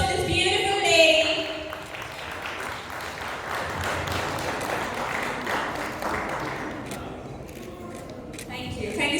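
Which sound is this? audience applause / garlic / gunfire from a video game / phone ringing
audience applause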